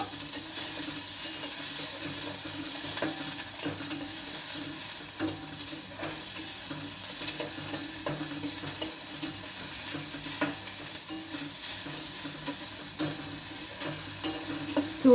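Tomato and ginger frying lightly in a little oil for a vegetable ragi soup, a dense close sizzle that runs steadily throughout, with frequent soft stirring scrapes and no talking.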